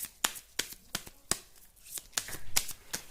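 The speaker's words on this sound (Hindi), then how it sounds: "चलिए कुछ कार्ड्स यहाँ से भी निकालते" Playing cards shuffled and drawn for a tarot-style card reading, a run of crisp riffling snaps and soft slides up close, with no one speaking.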